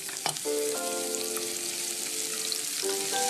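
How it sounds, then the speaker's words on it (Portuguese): Sliced garlic and coriander stems frying in olive oil, a steady, fairly quiet sizzle close by with a few brief stirring knocks and no talk. "E vamos juntar o alho, os coentros, aliás, os talos de coentros."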